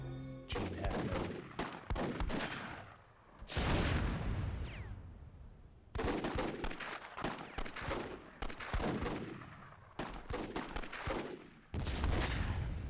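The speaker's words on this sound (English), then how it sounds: "Looks like some friendly fire RPGs there" RPG blasts and gunfire in the Myth II Soulblighter WWII game mode, loud repeated bursts of shots and explosions in clusters with short gaps between volleys.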